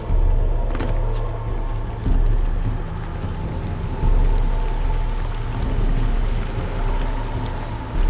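In the Shadow of the Tomb Raider video game, water drains away inside a tomb. The rushing, gurgling flow is loud and continuous, with low rumbling surges that swell every couple of seconds, and no voices come through.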